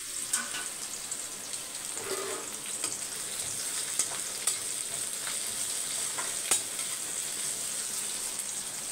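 Onions sauté in a pan for a mushroom biryani gravy, giving a steady, moderate hiss with occasional light clicks from stirring, close by and without speech.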